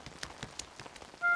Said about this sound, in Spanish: Hoy está lloviendo un poco.